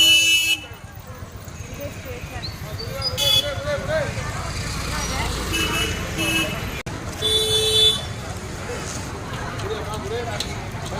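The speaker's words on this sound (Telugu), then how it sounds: "ఫుల్ రద్దీ, ఫుల్ జనాలు." Busy crowded street outside Tiruvannamalai railway station: repeated short vehicle horn toots cut through a steady traffic roar and crowd murmur, some near and loud, others farther off, with people talking throughout.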